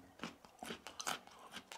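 Crisp, crunchy bites and chewing of a raw midwinter carrot at an off-grid homestead, about seven sharp crunches in a steady rhythm, close and clear with no talking.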